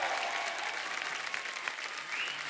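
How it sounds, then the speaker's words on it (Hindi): Studio audience of a Hindi TV comedy show applauding to welcome actress Nora Fatehi; steady, dense clapping fills the whole stretch at moderate level with no one talking over it. "जोरदार तालियां नोरा के लिए।"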